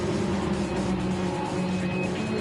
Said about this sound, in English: And look at these guys. They are about to blow past Isaiah.